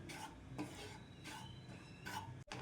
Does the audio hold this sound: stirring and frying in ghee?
yes